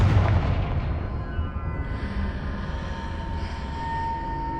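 In Hogwarts Legacy, the Confringo fire spell lands with a heavy, booming blast that opens the clip and then rumbles away into a long fading roar.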